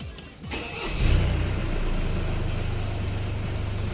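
A Mercedes-Benz car engine cranks and starts, then settles into a steady, close idle hum after a brief rev.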